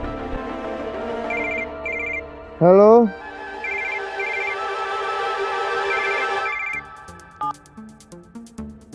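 An old-style telephone rings in repeated short double bursts during an outgoing call in a household drama, steady and clear, broken by a rising tone before the ringing stops and a woman answers.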